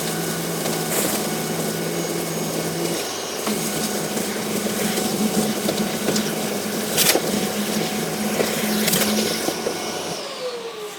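Festool CT Sys extractor vacuum fitted with a CT VA cyclone separator, running loud and steady as it sucks up debris, with brief clattering knocks partway through before the motor winds down near the end.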